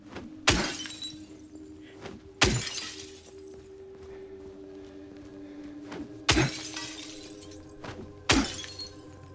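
Glass shatters four times at uneven intervals in Silent Hill 2 (Remake), each crash sharp and bright, with a low hum and faint background noise between them.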